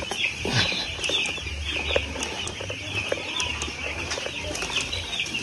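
Chickens on a poultry farm cluck and call steadily through the whole stretch, with scattered brief calls and possible wing flaps over a low, continuous background hum.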